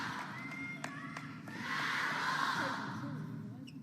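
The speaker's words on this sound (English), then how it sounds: "The Chateau chants in the crowd." A table tennis crowd at a mixed doubles semifinal swells into a loud collective chant and cheer, rising after a few sharp hits and sustained over a steady murmur.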